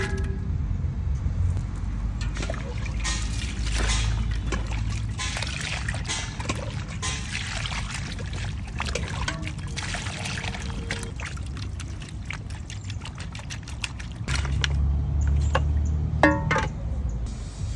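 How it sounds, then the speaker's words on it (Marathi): Raw chicken is washed by hand in clean water in a village kitchen, with uneven splashing, pouring and sloshing over low background rumble, heavier water noise returning near the end. "आपण सर्वप्रथम आपण चिकन धुवून घेऊ स्वच्छ पाण्याने"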